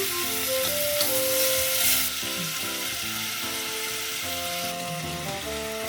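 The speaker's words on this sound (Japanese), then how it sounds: "鍋にごま油をひいてまず豚肉を炒めていきます。" Sizzling of pork frying in sesame oil in a hot pan, a steady hiss running under louder music with a bouncy melody.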